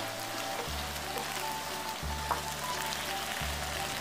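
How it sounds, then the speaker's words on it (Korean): Shishito peppers and fish cake stir-fry in a bubbling sauce, giving a dense, steady sizzle with a low hum that pulses in long, even stretches. "양념장에 거품꽃이 만발했을 때 재료 전체를 모두 양념과 섞어 고루 볶음을 합니다"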